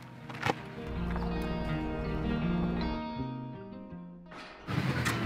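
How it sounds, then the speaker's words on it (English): A mare on a farm calls out in a long, wavering neigh with clear harmonic pitch that rises and falls over several seconds, framed by sharp hoof or handling thumps at the start and end, moderately close. "I've heard a mare calling already."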